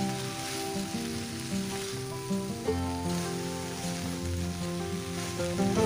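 Cauliflower fries with cooked-down spices in a pan before fish is added, a soft continuous sizzle with gentle bubbling, faint and close, while steady tonal background music runs underneath; no one talks.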